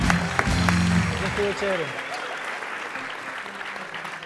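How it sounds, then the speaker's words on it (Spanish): Audience applause at a live comedy talk show, loud and dense at first with a voice over it, then thinning and fading over a few seconds. "¡Un aplauso, coño!"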